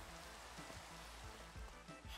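Soft, steady patter of rain falling in Minecraft, a faint continuous hiss with low rumbling underneath and no voices.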